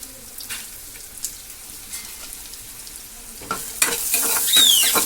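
Dried red chillies and garlic frying in a pan for a chayote kuzhambu, a soft sizzle with scattered spoon scrapes that rises into a louder burst of frying near the end.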